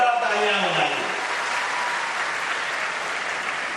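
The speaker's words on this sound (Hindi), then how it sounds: "श्रीमान नरेंद्र मोदी जी के लिए जोरदार तालियां बजाइए" Loud, sustained applause from a crowd at a state-level school enrolment campaign event in Bhopal, honouring Prime Minister Narendra Modi; dense steady clapping fills the whole stretch with a brief voice at the start.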